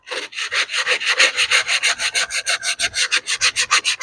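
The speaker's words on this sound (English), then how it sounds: "So you just take a scrap piece of sandpaper or a belt sander." A hand works 80 grit sandpaper back and forth over 3/4 inch cabinet plywood, making loud, rhythmic rasping strokes, about five per second, close up with no talk.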